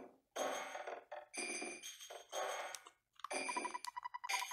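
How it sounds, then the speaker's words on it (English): Telephone ringing in the SNES game EarthBound, a bright electronic chiming ring repeated in several bursts with short gaps, clear and alone over game music. "that's the phone."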